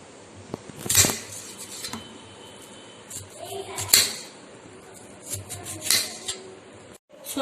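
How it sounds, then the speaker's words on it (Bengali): Cucumber and onion being cut with a knife for garnish: several sharp knocks and clacks of blade and utensils on a board or plate, coming in separate bursts with quieter handling noises between them, close by. "ম্যারিনেটের ফাঁকে গার্নিশিং এর জন্য আমি কিছু কেটে নিচ্ছি শসা, পেঁয়াজ আর ধনেপাতা।"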